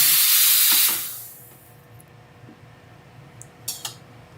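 A coffee machine steam wand hisses loudly and steadily for about a second, then cuts off, leaving a low hum and a couple of light clinks.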